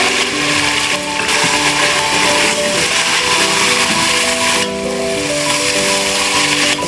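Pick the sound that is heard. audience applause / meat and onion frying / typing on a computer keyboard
meat and onion frying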